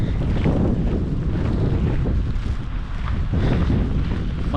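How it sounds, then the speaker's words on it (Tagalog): Strong winter wind in Canada roars and buffets the microphone with a loud, low, continuous rush that swells and dips slightly, with no one talking. "Ang lakas ng hangin."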